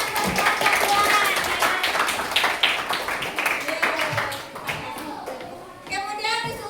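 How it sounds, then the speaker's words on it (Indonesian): Classroom of students clapping for a group, quick uneven claps mixed with children's voices and chatter close by. "Kasih tepuk tangan buat kelompok"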